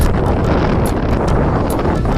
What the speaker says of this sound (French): Il n'y a rien pour couper du vent.